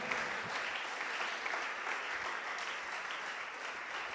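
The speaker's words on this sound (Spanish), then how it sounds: "¿Quién tiene aplausos para Él con toda la fuerza del corazón?" A church congregation applauds Jesus during a Spanish-language sermon, a steady wash of many hands clapping at even strength throughout, moderately distant, with no speech on top.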